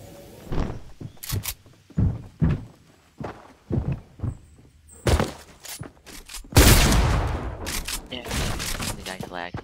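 Video game gunfire cracks out in several sharp bursts among thuds and movement, ending in a long, loud burst, with people talking throughout.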